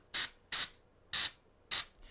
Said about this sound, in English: So here's where I'm spraying the bottom of this, like completely with the mid-tone color.